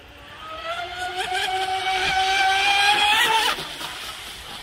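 A fast electric RC boat, a Delta Force 35 on 6S power with a 150A ESC and high timing, makes a speed pass, its whine rising in pitch and growing loud before cutting off sharply near the end.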